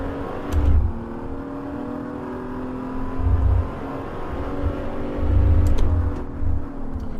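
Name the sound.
BMW Z4 engine revving in video game Assetto Corsa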